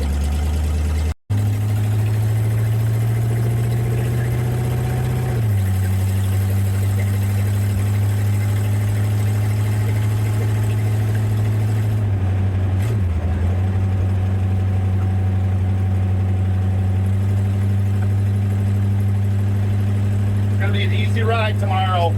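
A car engine idles with 80 pounds of oil pressure and 14 volts, sounding mild-mannered. It makes a loud, close, steady low drone for the whole clip, with a brief change in pitch partway through.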